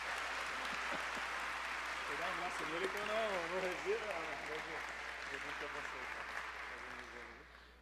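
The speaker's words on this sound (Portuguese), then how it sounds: "Uma salva de palmas, gente." Church congregation at a Brazilian service clapping, a sustained wash of applause with people talking over it, fading toward the end.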